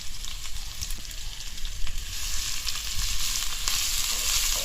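Medium-sized onions and curry leaves fry in hot oil for a soya meat curry, giving a constant, close, bright sizzle with light crackles that swells slightly as it goes on, and no one speaks.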